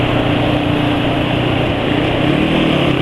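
Engine idling on Mesran SAE 40 oil, the exhaust a continuous loud rumble with a low steady throb, heard up close and alone without any talking.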